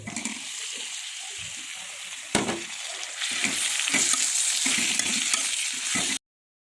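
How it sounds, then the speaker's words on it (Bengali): Bottle gourd greens hit hot oil with onion and garlic in a pan, a loud steady sizzle broken by scraping stirs and a sharp clatter, running close and continuous until it cuts off. "এখন আমি শাকগুলো দিয়ে দেবো।"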